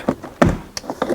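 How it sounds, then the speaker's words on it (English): Plastic trim below the door handle popping off a Mercedes GL450 door panel: a couple of sharp, close clicks and snaps with brief knocks between them, no voices. "So this trim just pops off"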